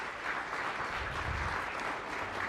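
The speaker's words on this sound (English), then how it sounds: "So round of applause for the Secretary and his team for that" Steady applause from an audience at a disability rights event honouring Secretary Blinken and his team fills the room, a dense even clatter of many hands lasting throughout.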